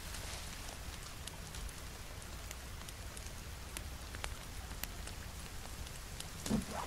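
Steady rain falls in the survival video game The Forest 2, a dense, even patter of drops on surfaces with occasional sharper taps. It plays alone throughout at a moderate level.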